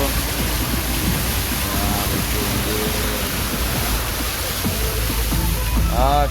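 Floodwater flows across a grassy roadside in the Sungai Pinyu area of West Kalimantan as a steady, loud, close rushing roar. Faint voices come and go underneath it.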